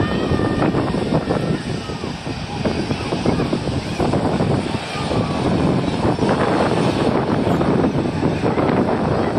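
An Atlas Air Boeing 747 lands at Manchester international airport, its jet engines giving a loud sustained roar with wind buffeting the microphone throughout.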